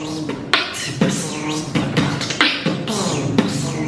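Beatbox UFO sound effect made with the mouth, a voice imitating a warbling flying-saucer whoosh in rapid, looping swells with sharp percussive clicks punctuating it, loud and close.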